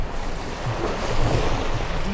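Sea waves washing onto a morning beach on Mousuni Island, a broad steady rush of surf mixed with wind buffeting the microphone, close and continuous without speech.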